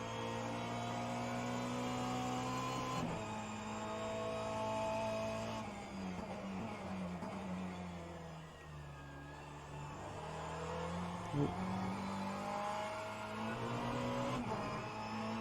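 A Ferrari 488 GTE race car engine in rFactor 2 at Daytona holds a strong, steady droning tone that shifts pitch up and down with the gear changes and sounds continuously throughout.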